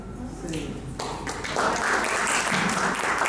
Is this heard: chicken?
no